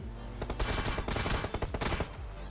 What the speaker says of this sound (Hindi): अब मैं पोचिंकी से निकलने लग रहा था तो भाई स्क्वाड हाउस की तरफ से जो है फायर हुई